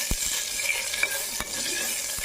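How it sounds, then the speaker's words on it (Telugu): Five or six lightly crushed garlic cloves and curry leaves are stir-fried in hot tempering oil for tomato rasam, making a close, busy sizzle with sharp clicks of stirring and no voices. "ఇలా మిక్స్ చేసుకుంటూ బాగా వేసుకోవాలి"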